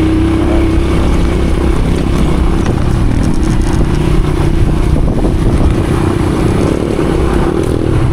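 A teacher's motorcycle engine running loud and close, a continuous rumbling drone with slight rises in revs and no speech over it.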